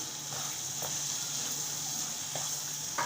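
Minced keema fries in a pan for Bihari keema, a soft continuous sizzle with a couple of faint stirring scrapes, fairly quiet and even throughout.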